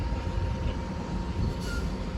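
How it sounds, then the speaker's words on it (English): A train idles at Flemington station platform, giving a steady low rumble with a faint continuous hum and a brief hiss near the end, moderately loud and with no talking. "So the train is gonna stay here for a bit longer."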